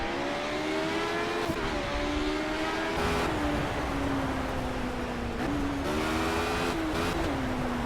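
Race car engine in the Project Cars video game, a loud, continuous whine whose pitch climbs and then drops sharply at several gear shifts, heard alone without any talk.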